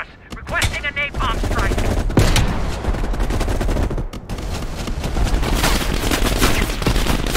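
Gunfire rattles loudly in the Call of Duty Cold War campaign, with sharp shots and rapid bursts from a ridge firefight crackling almost continuously while game voices speak over the battle.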